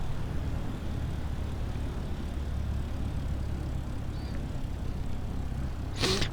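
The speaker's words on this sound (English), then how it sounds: "I just thought I'd do the takeoff and climb out" Steady, droning engine roar of a light aircraft making a full-length takeoff roll on a hot day in Microsoft Flight Simulator 2020, continuous and unbroken with a brief louder swell near the end.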